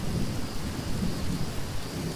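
A thunderstorm pours heavy rain with a steady wash of drops, while a low rumble of thunder rolls underneath throughout. The storm sounds close and enveloping, with no voices.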